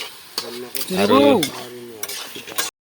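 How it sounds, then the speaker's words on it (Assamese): Meat cooking and being stirred in a pan, a steady sizzle with scraping stirring strokes and a brief clinking swell in the middle, close and fairly loud, no talk. "ইয়াত মাংস বনাইছে"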